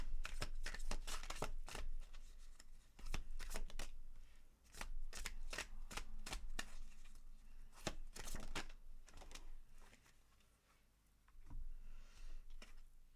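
A tarot deck is shuffled close up in repeated soft bursts of riffling and flicking card edges, pausing briefly between rounds, quiet and with no talking.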